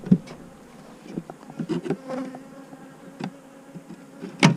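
Honeybees in a hive colony buzz in a low, continuous drone, with sharper close buzzes from individual bees passing near at irregular moments and no voices.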